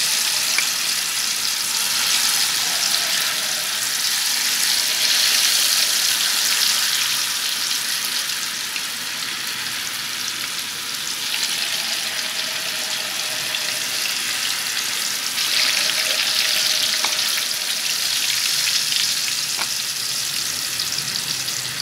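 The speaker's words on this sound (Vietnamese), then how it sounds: "Giờ mình sẽ cho tàu hũ vô đây mình chiên ha." Tofu deep-frying in hot oil, a steady loud sizzle and crackle that carries on without pause, no voices.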